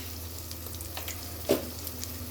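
Tomatoes, chillies and spices fry together in a pan. The sizzle is soft and steady, with a few brief stirring scrapes and one sharper clatter midway, heard close with no talk.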